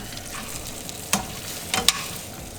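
Lobster and squid tossed in a hot pan for cheesy seafood pasta, a soft steady sizzle broken by a couple of sharper scraping stirs near the end.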